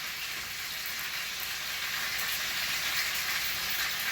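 Beef browning in a hot pan, a steady bright sizzle and crackle of frying fat that holds even and loud throughout with no voices.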